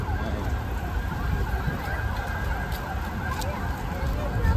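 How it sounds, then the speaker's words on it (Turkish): An ambulance siren wails continuously as it passes over rumbling traffic noise, fairly close and loud, swelling slightly toward the end. "Ambulans geçti be."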